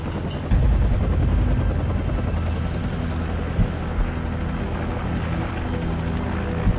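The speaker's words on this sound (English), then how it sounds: "Take out that helicopter." Helicopter in the video game Call of Duty 4: Modern Warfare, with a steady, heavy rotor drone that fills the scene loudly and continuously, plus occasional faint thumps in the background.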